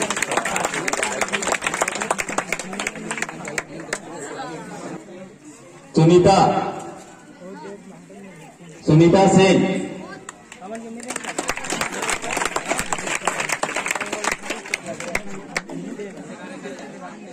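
Scattered crowd clapping at a village prize ceremony for a rural sports games in a Chhattisgarh gram panchayat, crackling in stretches at the start and end, broken by two loud bursts of an announcer's amplified voice in the middle.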